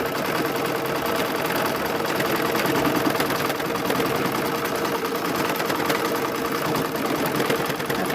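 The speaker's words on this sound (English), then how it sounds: "it's going to stitch around there again just to give it that sturdy stitch" An embroidery machine stitching a mug rug, running with a fast, steady mechanical whirr and rapid needle chatter that stays loud and unbroken throughout, with no talking.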